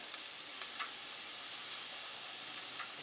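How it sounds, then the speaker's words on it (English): Onions frying in about a tablespoon of olive oil in a home kitchen pan, a faint steady sizzle with soft crackles, quiet and continuous with no talking. "we're going to start our onions frying."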